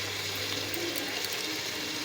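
Water poured into mutton curry cooking with its spices in a home kitchen, a steady hissing splash that holds evenly throughout with no one talking.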